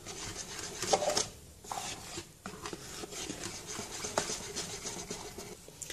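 Cake batter of flour being whisked by hand with a hand whisk, a continuous rasping, scraping churn against the bowl, fairly close, with a brief pause near the start and no talk.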